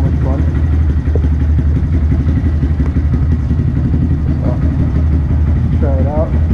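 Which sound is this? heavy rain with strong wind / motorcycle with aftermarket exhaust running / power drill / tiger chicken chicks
motorcycle with aftermarket exhaust running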